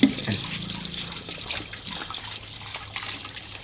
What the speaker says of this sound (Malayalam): പൈപ്പിൽ നിന്ന് കുടിക്കേ ടേയ് റോമ